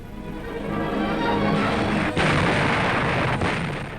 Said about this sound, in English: the guns of the Navy were tearing gaps into the steel and concrete walls of Fortress Europe